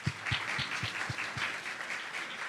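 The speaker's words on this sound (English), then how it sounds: "Another round of applause," Audience applause at a literary festival: steady, dense clapping from a crowd, sustained throughout with no voices over it.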